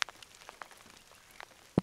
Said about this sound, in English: Oh, now it's really gonna rain. Now it's raining.